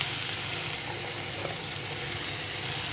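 Steady sizzling of fish frying with ginger, salt, turmeric and spices in a pan, continuous and close with no talk, for a sour Bengali fish curry.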